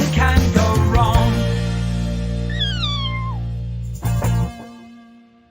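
Cartoonish cat meows from the space-adventure video game Adventures of Cat in Space, several rising and falling mewing calls over a steady musical backdrop, with a brief louder burst near the end.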